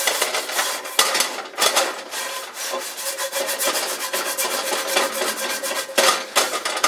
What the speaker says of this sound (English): I use that salt and the abrasive quality to scrape up